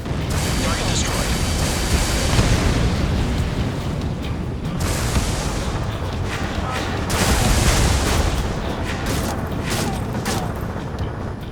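Missile explosions in the Ace Combat 7 video game make a continuous barrage of booming blasts and rumbling impacts, loud and dense throughout, while voices speak over the action.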